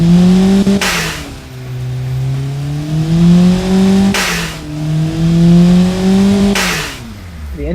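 A car engine in the Automation driving game idles smoothly and quietly, then revs in three sharp throttle blips with brief bursts of noise, settling back to a steady hum between them.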